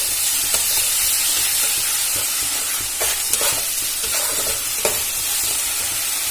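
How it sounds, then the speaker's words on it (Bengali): Ginger-garlic paste frying in a pan for a fish-head and potato ghonto, with a steady loud sizzle throughout and a few brief scraping stirs of the spatula; no voices. "আমি দু চামচ মতো আদা রসুন বাটা দিয়ে দিলাম দিয়ে খুব ভালো করে নাড়াচাড়া করে ভেজে নেব"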